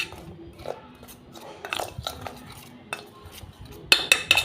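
Spoon stirring baking soda into a powder mixture, scattered scraping clicks and soft taps against a bowl, with a brighter cluster of clinks near the end.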